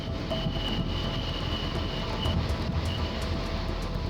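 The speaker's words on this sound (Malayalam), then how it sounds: "തിരുവനന്തപുരത്ത് നിന്ന് കൊല്ലത്തേക്ക് വൈകിട്ട് 6 മണിക്ക് പുറപ്പെടുന്ന പാസഞ്ചർ ട്രെയിൻ." A passenger train from Thiruvananthapuram to Kollam rumbles along in a loud, continuous roar of wheels on track, with a faint high whine and no voices.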